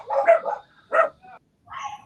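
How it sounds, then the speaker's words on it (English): Dogs bark close by in three short, sharp bursts separated by brief pauses, with no voices over them. "My dogs made your dogs bark."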